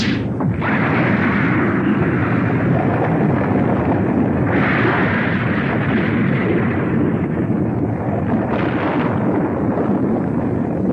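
A deep underwater explosion in an animated adventure series, set off 800 metres down against a submarine: a sustained, loud, rumbling roar with broad low-end boom, swelling in several surges across the whole stretch with no talk.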